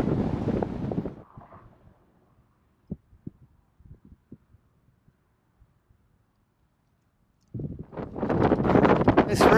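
Strong wind roars and buffets the microphone of a cyclist on a road ride, loud at the start and again at the end, with a lull between where faint knocks and clicks are heard.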